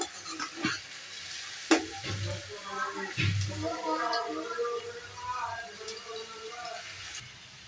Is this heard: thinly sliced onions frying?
yes